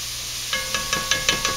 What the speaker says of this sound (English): now I'm sauteing my onions